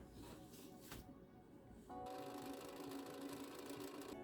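A sewing machine stitching finger gussets for a cosplay glove runs with a steady mechanical whirr, picking up and holding a brisk pace after a quieter start, close and fairly soft.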